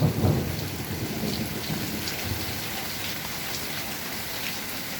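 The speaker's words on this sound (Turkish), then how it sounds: "Şöyle yağmurun sesi biraz hafiflemişken konuşayım." Steady rain falls continuously, with a dense hiss of drops on surfaces and a few heavier low rumbles near the start.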